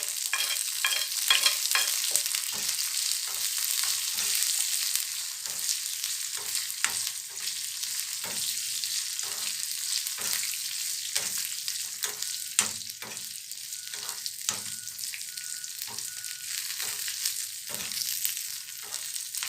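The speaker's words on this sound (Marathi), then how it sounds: "तर आपला लसूण आणि मिरची इकडे छान व्यवस्थित फ्राय व्हायला सुरुवात झालेली आहे" Garlic and chillies fry in a pan for chicken kaleji thecha, a steady soft sizzle with frequent sharp crackles and stirring taps, moderately quiet and close, no voices.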